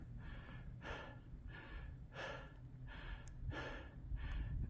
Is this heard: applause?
no